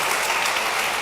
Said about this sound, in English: A big round of applause to our speakers.